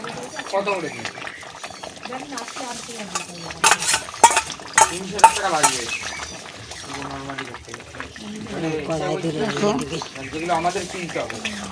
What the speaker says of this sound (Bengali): এখন ভাজা মশলাটা আর গরম মশলাটা দিয়ে দিচ্ছে